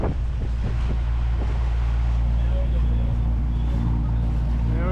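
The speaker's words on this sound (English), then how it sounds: "We've been motoring into Elizabeth Harbor." A sailboat motors into Elizabeth Harbor with its sails down, giving a constant low engine drone mixed with rushing wind buffeting the microphone, steady and loud throughout.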